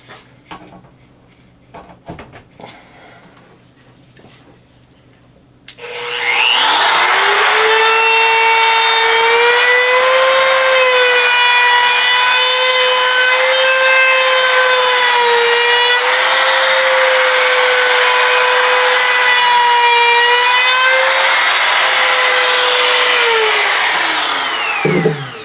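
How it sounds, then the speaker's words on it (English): A wood router spins up to a loud, steady high-pitched whine and cuts continuously for nearly twenty seconds before winding down, preceded by faint handling noises. "I'm going to go ahead and run a router over it."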